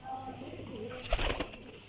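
Highflyer pigeons coo softly in a short, low murmur, with a brief flutter of wings partway through.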